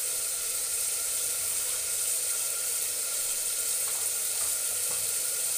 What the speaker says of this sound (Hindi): अब देखिए ये यहाँ पे गरम हो रहे हैं, मतलब अच्छे से पक रहे हैं टमाटर